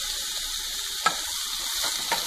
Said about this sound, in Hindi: अच्छे से इसे मिक्स कर लेंगे।